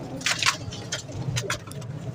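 Pigeons coo at a pigeon market in Shahdara, with a few close, soft throaty coos and bursts of wing or feather rustle against faint background noise.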